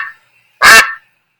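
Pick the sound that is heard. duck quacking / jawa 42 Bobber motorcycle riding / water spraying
duck quacking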